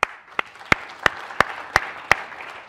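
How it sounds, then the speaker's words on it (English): Audience applause at a university Islamic society debate on consciousness: sharp, evenly spaced claps stand out in a regular rhythm over a softer bed of scattered clapping, fairly close and moderately loud. "Actually, let's applaud them."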